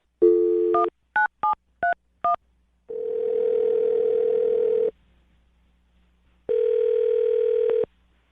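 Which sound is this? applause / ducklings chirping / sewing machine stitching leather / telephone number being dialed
telephone number being dialed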